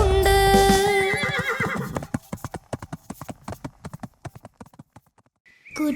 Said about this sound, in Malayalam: ടക് ടക് ടക് ടക് ഓടും കുതിരേ, ദൂരെ പോകും കുതിരേ